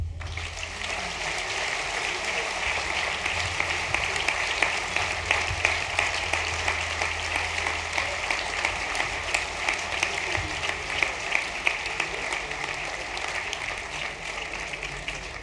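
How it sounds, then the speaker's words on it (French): Audience applause for the mayor's team at a New Year's address in Cusset, a steady, moderately distant wash of clapping from a hall crowd that holds evenly throughout. "je vous demande de bien vouloir applaudir la fabuleuse équipe qui m'entoure aujourd'hui"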